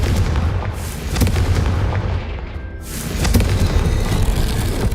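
In Hogwarts Legacy, a Confringo blasting curse detonates in a string of loud, booming blasts with rumbling, crackling tails, close and forceful throughout.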